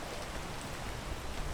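Steady rain in the video game Peak, a soft continuous hiss of drops falling on surfaces, even and fairly faint throughout with no voices over it.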